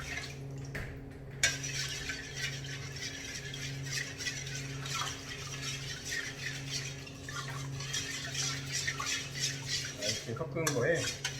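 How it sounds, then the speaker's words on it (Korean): Kimchi seasoning mixed with plum extract in a bowl, giving a steady wet stirring and scraping with faint clinks throughout, close up, with no one talking. "매실 액기스 한 테이블 정도 넣어주시고 잘 섞어주세요"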